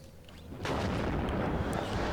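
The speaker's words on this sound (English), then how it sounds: "Artillery's starting to come down." Artillery shells landing in the Cold War strategy game WARNO, a sudden low rumbling barrage that swells and keeps booming at a steady distance without any talk.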